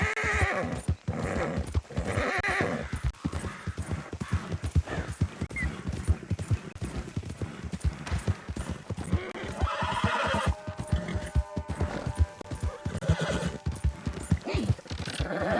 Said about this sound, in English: Hey, mister, that's one nice-looking horse you got there.